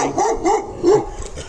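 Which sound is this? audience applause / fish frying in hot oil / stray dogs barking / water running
stray dogs barking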